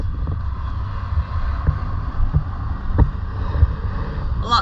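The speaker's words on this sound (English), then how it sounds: "The wind has picked up. Lots of sand and dust blowing around." Gusty wind buffets the microphone while blowing sand and dust across a deserted mountain landscape, a low rumbling roar with irregular bursts and a few faint knocks.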